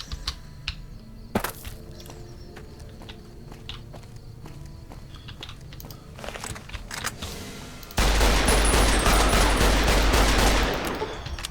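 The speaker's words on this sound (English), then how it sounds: "Getting shot at by someone." Gunfire in the video game Fallout New Vegas: scattered sharp shots and clatter through the first eight seconds, then a dense, loud burst of sustained firing that fills the last few seconds before easing slightly.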